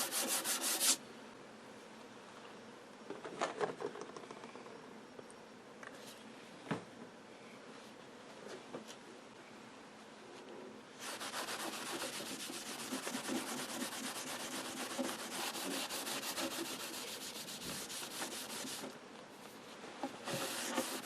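Hand rubbing and polishing of a grimy, dull Admiral 19A11 bakelite radio cabinet: steady close scrubbing strokes with brief knocks early on, then a denser, continuous rub from about the middle to the end.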